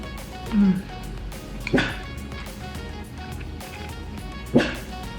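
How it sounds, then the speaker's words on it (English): A pet dog barking indoors, three short, separate yips and barks spread over a few seconds, moderately faint against a quiet room. "That's my dog, by the way."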